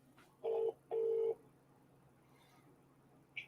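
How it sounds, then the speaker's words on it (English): Phone calling someone back: two evenly spaced electronic ringback tones, each under half a second, clear but moderately quiet, followed by near silence and a short faint blip at the end. "Should we phone her back?"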